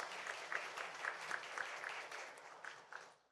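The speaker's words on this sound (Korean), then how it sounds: "다시 한번 스펙터님한테 큰 박수 부탁드립니다" Audience at a South Korean Bitcoin conference clapping after a presentation, a fairly faint burst of applause that fades out over a few seconds.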